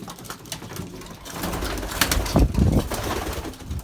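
Belgian racing pigeons at a nest coo repeatedly, growing louder and busier toward the middle, with some rustling and wing movement close by and no speech.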